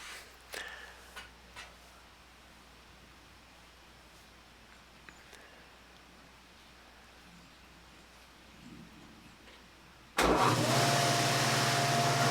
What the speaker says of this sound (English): start cutting the tongue and groove using the shaper